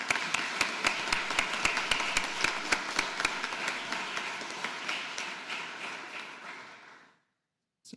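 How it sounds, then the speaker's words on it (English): Audience applause at a medical graduation ceremony, a dense, steady burst of many hands clapping that carries on for about seven seconds before cutting off abruptly. "So I think they deserve another round of applause."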